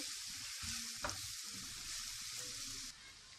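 Garlic frying in oil as it turns golden brown for a chilli garlic sauce, a steady close sizzle with a brief stir clatter near the middle and the sizzle easing off at the end.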